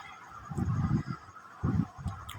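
A young pair of Teddy pigeons in a loft give low, throaty cooing calls in several short bursts, fairly close and moderately loud against quiet background noise.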